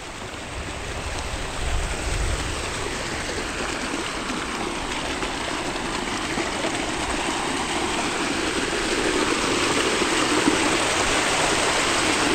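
Steady, loud rush of water pouring fast through a farm irrigation channel, a continuous broadband roar with no breaks.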